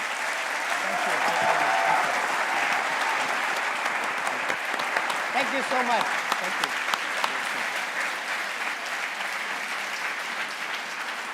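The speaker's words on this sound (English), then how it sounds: "So let's give him a round of applause." Long applause from a university audience at Tel Aviv University honoring a guest before an honorary doctorate, dense steady clapping from a large hall while a man briefly offers thanks over it.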